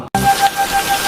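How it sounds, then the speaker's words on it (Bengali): Rain falls in a dense, steady hiss, wetting people walking through it on the way to school. A short dropout comes near the start, and there is no talking. "এই যে বৃষ্টিতে ভিজে ভিজে যাচ্ছি"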